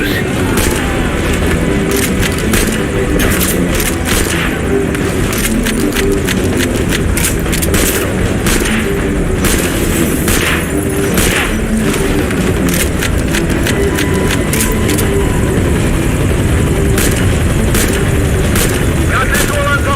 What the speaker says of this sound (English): The rifle is equipped with an underbarrel grenade launcher. Put it to good use.